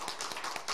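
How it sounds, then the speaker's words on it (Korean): A church congregation claps together, a brief, quick burst of many hands heard from a short distance at moderate volume. "네, 박수."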